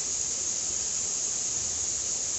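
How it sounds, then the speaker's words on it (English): Steady broadband rush of a waterfall somewhere in the background on a hot summer morning near cut hay fields, a constant even hiss with no pauses and no voices. "that is the sound of a waterfall you hear in the background."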